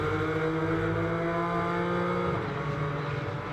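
BMW GT4 race car at Misano in a GT4 European Series race, engine note dropping under braking into a right-hander, loud and steady with harmonic drone shifting down.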